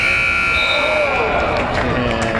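A loud, sustained electronic buzzer sounds to end the third quarter of a boys' high school basketball game in a gym, blaring over crowd noise and an announcer's commentary.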